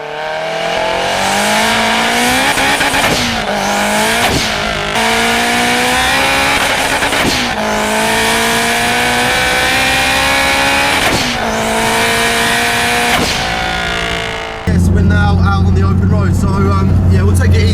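A turbocharged Honda Integra Type R DC5 pulls hard through repeated gear changes, its engine note rising steadily and dropping between shifts, loud and close from inside the cabin, then settling into a steady drone near the end.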